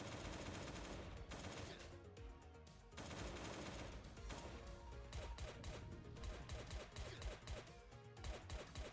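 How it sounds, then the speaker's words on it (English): Rapid AK rifle bursts and single shots fire continuously in the video game Last Day on Earth, loud and dense throughout with cracking impacts and no talk over them. "I just kind of want to use up this AK."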